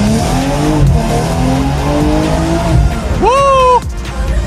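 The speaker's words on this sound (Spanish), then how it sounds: "lo ponemos en Sport, caja en Sport, modo manual, y vamos a ver qué tal suena este tote" A car with a downpipe, set to sport mode with its gearbox in manual, revs loudly and steadily up close, ending in a sharp high tire squeal; a voice speaks over the engine.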